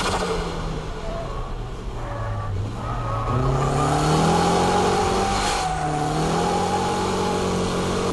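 A car engine revs up and down loudly while drifting, pitch climbing and falling as it is pushed hard, with faint tire noise underneath.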